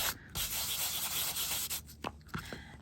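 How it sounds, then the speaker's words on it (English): A sanding block rubs steadily back and forth over thin aluminium foil tape, a close, dry scratching that breaks into a few short strokes near the end. "I have buffed it with my sanding block"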